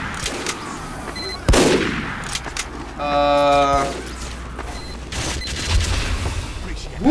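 Gunfire in the video game Team Fortress 2: scattered shots and booms across a busy match, with one sharp loud blast, a burst of rapid ringing fire in the middle and further shots later.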